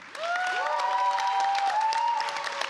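Audience applause at a startup showcase event, steady clapping with a few whoops and cheers rising over it, moderately loud across nearly three seconds.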